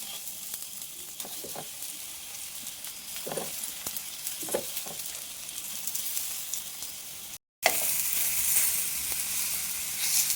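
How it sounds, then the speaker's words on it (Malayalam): Banana pieces fry in ghee in a pan, giving a continuous soft sizzling hiss with occasional stirring scrapes, a brief cut of silence, then a louder, brighter sizzle resuming. "നെയ്യ് മതി ഈ പഴം ഇങ്ങനെ വെച്ചിട്ട് പൊരിച്ചെടുക്കണം"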